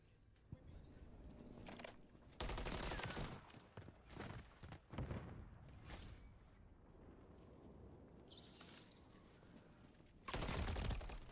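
Bursts of submachine-gun fire in a multiplayer shooter, with sharp loud volleys near the start, middle and end over a steady game-ambience bed.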